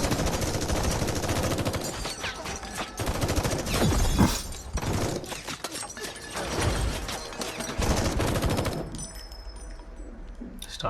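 Gunfire in the action climax of the film Lokah Chapter 1, with dense rapid bursts of shots and blasts that come loud and close over several seconds before they thin out into quieter noise.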